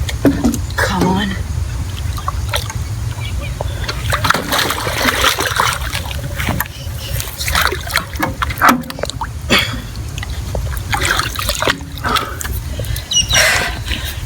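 A bull shark splashes and thrashes in the shallows of the Logan River as it is landed, with irregular wet splashes and sloshing under someone talking close by.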